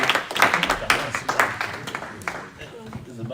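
Brief, scattered clapping from a small seminar audience, a handful of distinct claps at the start that thin out, with a voice talking over them.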